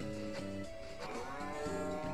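Cow mooing in the farming game Story of Seasons: Trio of Towns, a loud, sustained low moo with a rising and falling tone, heard alone and close.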